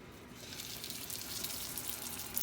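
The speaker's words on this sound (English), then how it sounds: "listen for the sizzle" A faint, soft hiss of a steak sizzling in a cast iron skillet over medium-high heat begins after a brief quiet moment and continues steadily.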